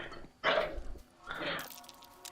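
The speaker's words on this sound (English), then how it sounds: "bit of background noise as dog's playing" A dog plays in the background with faint barks and yips in two short bursts, distant and quiet in an otherwise still room.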